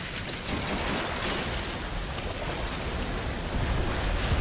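Continuous rushing water and breaking waves in the BioShock video game, a dense, steady wash of surf with wind-like hiss that swells slightly toward the end.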